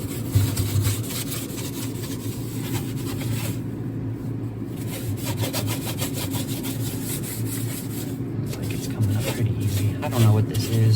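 Regular scrub sponge scrubbing the inside of a freezer, rapid rhythmic back-and-forth rasping strokes close by, a steady run of repeated scrubbing with a low hum in the background.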